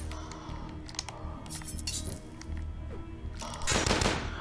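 Shotgun blasts in the first-person shooter video game DUSK, heard amid dense game noise: repeated loud booming shots with clanking metallic clatter, a heavier burst near the end, no voices.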